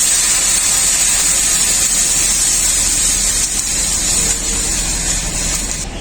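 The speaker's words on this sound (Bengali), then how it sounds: "তাই জল দিয়ে দিচ্ছি কড়াইতে।" Water splashed into a hot wok (kadai) still slick from frying fish roe, raising a loud, steady sizzling hiss that holds for the whole stretch and eases off slightly at the end.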